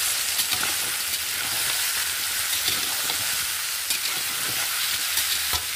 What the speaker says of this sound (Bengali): হলুদটা দিয়ে একটু নেড়ে দেবো।